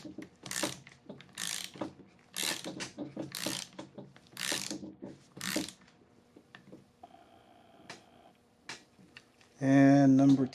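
A ratchet clicks while tightening cylinder head bolts on a 2008 Acura MDX engine, with short bursts of ticking between stretches of someone talking close by.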